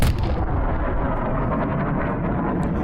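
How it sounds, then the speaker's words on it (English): A loud, deep booming roar that fills the whole moment, rumbling steadily for a few seconds without any break. "And that is what you call a sonic boom."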